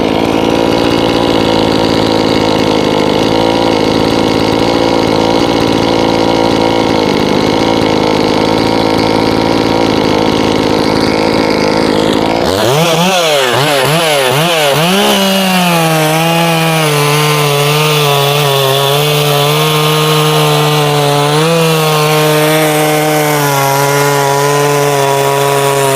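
A Solo by AL-KO 6656 chainsaw engine on its first run roars loudly and steadily for about twelve seconds, then drops sharply and settles into a lower, uneven idle with the revs wavering up and down.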